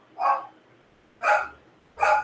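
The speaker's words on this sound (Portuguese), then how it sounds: "Tem um cachorro latindo aqui fora." A dog barking outside, three separate sharp barks spaced about a second apart, moderately loud and alone without talk.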